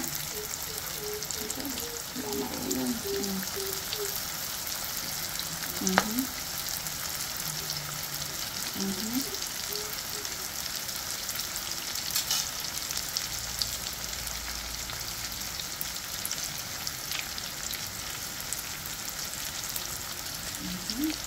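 Shrimp spring rolls (lumpia) fry in hot oil with a steady, continuous sizzle throughout, and faint voices appear here and there under it.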